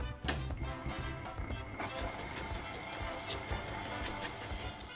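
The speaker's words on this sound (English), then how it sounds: "Now using a hand mixer or a stand mixer, we're going to beat this up until it's nice and smooth." An electric hand mixer beats donut batter in a bowl, a continuous close whirring motor drone with beaters scraping, steady and fairly loud throughout after a short clack at the start.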